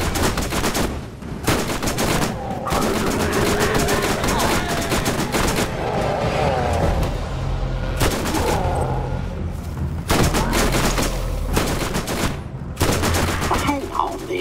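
Borderlands gunfire comes in loud, dense bursts of rapid shots and volleys separated by short gaps, with game voices and effects in between.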